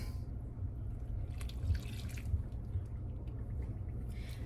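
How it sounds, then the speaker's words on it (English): Hot water pours steadily into a bowl with a soft, low gurgling stream and faint splashes, close by and quiet. "I'm going to add 1 1/4 cup of hot water"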